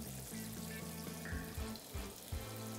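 Chicken pieces frying in abundant hot oil give a steady crackling sizzle, with a few low bumps and clatters from the pan as pieces are added.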